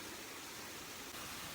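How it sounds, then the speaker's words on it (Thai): A stream flowing beside a jungle campsite gives a steady, even rushing hiss with no breaks, fairly faint and with no voices. "นอนฟังแต่เสียงน้ำไหล"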